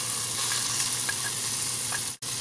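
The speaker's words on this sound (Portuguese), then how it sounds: "E eu vou fritar uma cebola média e três dentes de alho, que eu passei no processador tudo junto" A medium onion and three cloves of garlic, ground together, fry in butter with a constant bright sizzle and hiss, close and even, broken by a brief dropout near the end, no talking.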